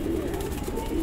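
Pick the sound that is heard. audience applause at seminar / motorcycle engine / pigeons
pigeons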